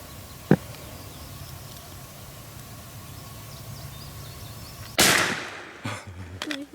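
A single loud gunshot while bird hunting, a sharp blast near the end of a quiet outdoor stretch followed by a short decaying tail and rustling, with an earlier faint click.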